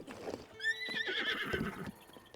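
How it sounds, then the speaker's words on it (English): A horse in Zelda: Breath of the Wild neighs in a loud whinny while its hooves clip-clop across a bridge, with no talk. "One of my weakest gaming skills is riding a horse across a bridge"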